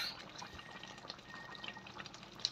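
Thick, glossy Filipino pata tim braising sauce is poured slowly and gradually, giving a faint, soft liquid trickle with small drips, close by and with no talking.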